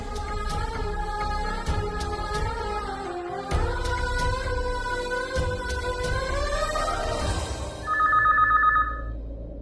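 A landline telephone rings with steady repeated bell tones over background music in a Tamil TV serial scene, fairly loud and close, with a brighter electronic tone near the end.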